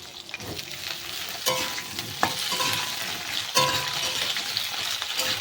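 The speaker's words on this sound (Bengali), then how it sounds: "আলু আর ফুলকপিটাকে আগে আমি ভেজে নেব।" Potato and cauliflower pieces fry in hot oil in a pan, a steady sizzle broken by a few sharp stirring scrapes and clinks of a spatula.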